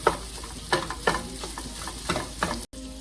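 Italian sausage fries and browns in a pan with a steady sizzle, punctuated by regular scraping knocks from stirring, close and moderately loud with no voices.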